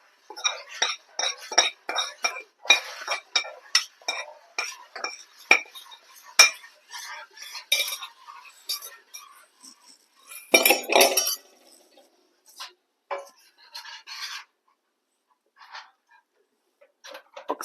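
A spoon scrapes and clinks against a pan while Mysore pak sweet mixture is stirred, a run of close, irregular metallic taps that thin out toward the end, with soft speech in the background.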